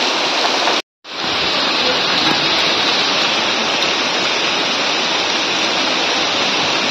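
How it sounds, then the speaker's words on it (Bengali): Heavy rain from Cyclone Remal pours down in the Sundarbans, a dense, steady roar of falling water that fills the scene continuously apart from one brief cut near the start. "কিভাবে বৃষ্টিটা হচ্ছে দেখুন শুধু।"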